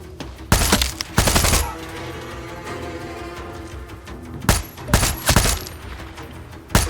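Gunfire in the video game Far Cry 6: loud bursts of shots around 0.5–1.5 s and again near 4.5–5.5 s, with a steady rumble of ambient battle noise between them.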